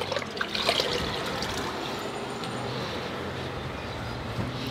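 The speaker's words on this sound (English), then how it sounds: "So I'm going to clean it with a microfiber cloth." A headlight lens is washed with water from a bucket and a microfiber cloth, giving a steady close trickle and wet swishing throughout, with no talking.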